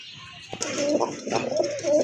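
A large red Raj Gola pigeon coos in its own cage at a pigeon farm, a soft repeated cooing heard close up over light background noise.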